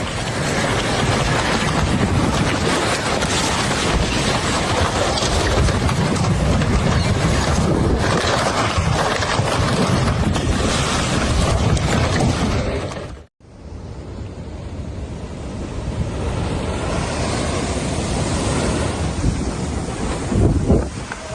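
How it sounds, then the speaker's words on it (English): Nighttime flood water in Scotland rushes in a loud, steady roar heavily buffeted by wind on the microphone, broken by a sudden short gap before the churning continues. "This terrifying nighttime flood happened in Scotland."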